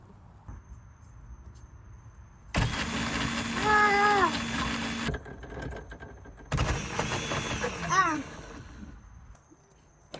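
Electric motors of a toy ride-on truck, modified to run on 24 volts, whine in two bursts of roughly two to three seconds each, with rising and falling pitch as they spin up and slow, fairly close and loud.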